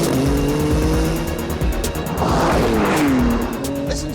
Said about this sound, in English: Listen to those gear changes.